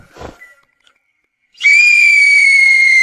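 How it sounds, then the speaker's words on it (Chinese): After a brief shout and a moment of silence, a whistle is blown hard in an animated drama, one loud, sustained shrill blast held to the end. "对，吹哨子。"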